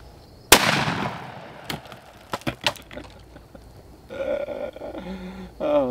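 A single sharp .243 Winchester rifle shot with 95 grain AccuTip ammunition cracks once against ketchup containers outdoors, followed by scattered smaller impacts and clatter, then a brief voice.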